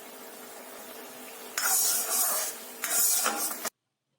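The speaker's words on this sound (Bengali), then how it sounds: "এবার অল্প পরিমাণ সোয়া সস দেব।" Soy sauce is poured into a hot wok of street-food-style chili chicken, setting off two loud bursts of sizzling hiss over a low kitchen hum before the sound cuts off.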